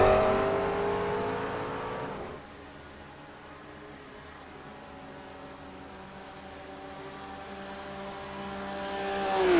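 A McLaren GT3 race car's exhaust howls past at Mount Panorama, loud at first, then its note drops and fades as it pulls away, before another engine swells back in near the end; no voices.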